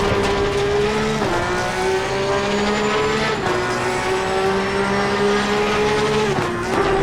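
A Porsche 911 GT3 Cup race car at Donington Park in Assetto Corsa Competizione, its engine howling loudly as it accelerates and climbs through gears, with brief dips at each upshift, continuous and close.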